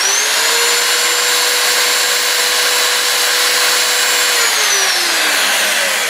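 An electric drill whirs at a steady high pitch for several seconds, loud and constant, then its tone drops as it winds down near the end.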